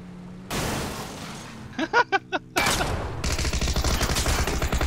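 Gunfire in the PUBG battle royale game: a loud dense burst of rapid shots, a short gap with a few separate sharp cracks, then sustained heavy firing to the end.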